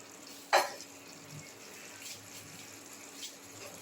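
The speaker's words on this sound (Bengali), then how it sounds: "আমি ড্রাই চিলি সোয়া করছি তাই জন্য আমি অল্প একটু জল দিলাম" A little water is poured into a pan of dry chilli soya with vegetables, a brief faint splash followed by quiet low sizzling and faint background noise.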